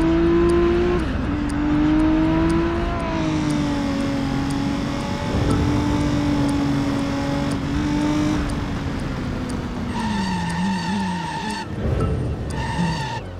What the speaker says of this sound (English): Drive over 150, can this car do that?